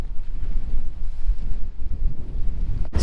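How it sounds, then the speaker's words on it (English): Strong coastal wind on the Beara Peninsula in Ireland buffets the microphone beside a camper van, a continuous low rumbling roar with gusty surges throughout. "it's forecast to get really windy, and we can feel it a little bit at the moment"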